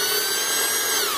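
An ordinary variable speed drill driving a standard trailer jack mechanism on a plasma torch guide whines at a steady high pitch, close and loud, then cuts off at the end.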